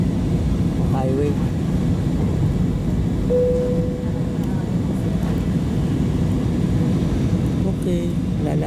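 Engine noise fills an airliner cabin during landing: a steady, dense low roar with a brief tonal whine in the middle and small clicks near the start and end.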